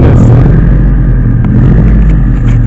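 A car engine rumbles loud and close at a Cars and Coffee meet, likely a Mercedes SLS, with a deep steady drone and slight rise in revs, no voices.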